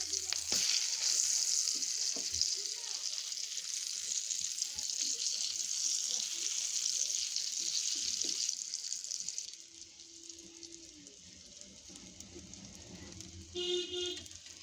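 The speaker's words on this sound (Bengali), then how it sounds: "আমার বেগুন ভাজা হয়ে গেছে" Eggplant slices sizzle loudly and continuously in a frying pan for about nine seconds, then the sound drops to a quieter hiss. Near the end comes a brief clatter and a trickle of running water.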